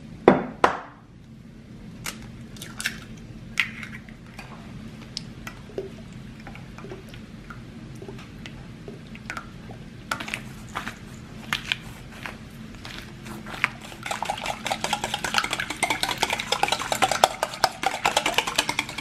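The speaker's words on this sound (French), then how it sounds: "Pendant ce temps, je vais mélanger ma crème, mes œufs, mon sel," Cream, eggs and salt being mixed in a bowl, close wet clicks and taps of a utensil against the bowl, sparse at first and then quickening into a rapid, steady whisking toward the end.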